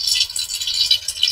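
Mustard seeds hit hot oil in a pan during dhokla tempering, giving a close, bright crackling and rattling sizzle with a flickering, uneven texture over a short moment.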